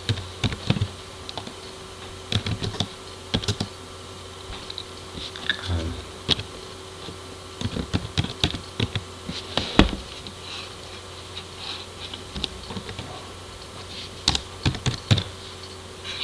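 Computer keyboard typing a new feature name in CAD software: steady, close clicking keystrokes in irregular quick bursts across the whole stretch, with small pauses between words and no talking.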